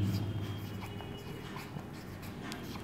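A teacher writes on the board during a fifth-grade math lesson, with soft scratching strokes in a quiet room, ending with a sudden sharp knock.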